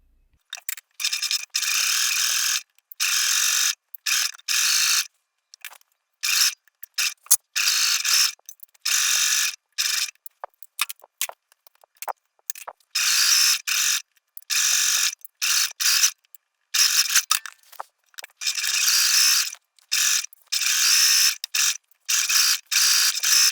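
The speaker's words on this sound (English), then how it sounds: "And then we'll take that over to the sewing machine and stitch down here." A sewing machine stitches down the edge of a woven dolman dress, running in repeated close, loud mechanical bursts with short pauses between runs.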